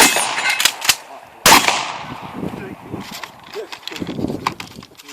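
Several sharp gunshots crack out at irregular intervals at a season-opening shooting match, loud and close, with a murmur of voices and outdoor noise between them.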